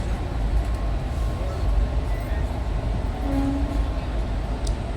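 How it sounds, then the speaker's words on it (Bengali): A Vande Bharat express running fast between Srinagar and Jammu gives a steady, dense rumble and rattle, heard from inside, with a faint brief tonal whine partway through. "ট্রেন বেশ দ্রুততালে চলছে, অবশ্যই এটা বন্ধে ভারত"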